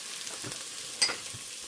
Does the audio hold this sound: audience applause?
no